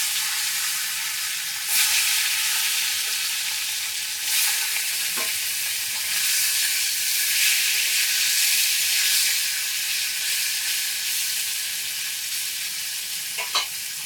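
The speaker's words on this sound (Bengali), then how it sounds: "তেল গরম হয়ে গেছে, মাছগুলো ভেজে নেব।" Koi fish (climbing perch) frying in hot oil, giving a loud, continuous hissing sizzle with a few brief pops and crackles, with no talk.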